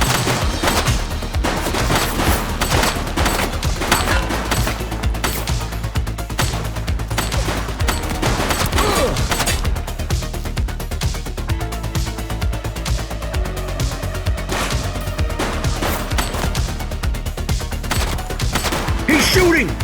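Sustained gunfire in The Precinct police game, dense bursts of automatic shots and scattered single cracks running almost without pause, loud and busy over a thick layer of game noise and music.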